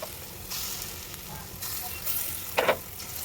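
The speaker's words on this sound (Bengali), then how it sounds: "বড়াগুলো দিয়ে সুন্দর করে ভেজে দেবো" Lentil fritters (bora) sizzle steadily in hot oil, a continuous broadband hiss with a few brief louder crackles and spatters near the end, close and moderately loud with no talking.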